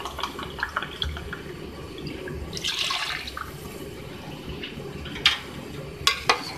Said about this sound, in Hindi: 2 गिलास इसमें पानी ऐड कर लेंगे